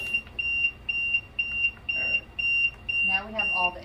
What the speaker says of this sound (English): so now you have some alarm.